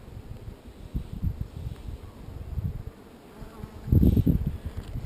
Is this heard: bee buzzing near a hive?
yes